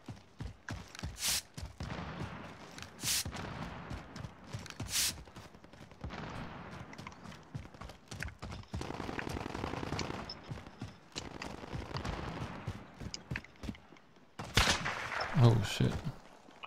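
Gunfire in a video game crackles in bursts of sharp shots and rapid clusters, some loud and close and others fainter, scattered across a busy stretch with voices talking in between.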